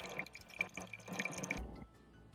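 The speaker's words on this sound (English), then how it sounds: "I like to use a chopstick to stir it up." A chopstick stirring wet gluten-free sourdough starter in a container, giving soft sloshing, dripping and light tapping sounds for about a second and a half before falling quiet, close and faint.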